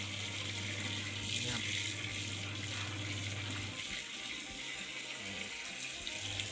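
Water drains out of a washing machine with a faulty drain hose, a continuous rushing flow close by with a low steady hum underneath that stops partway through.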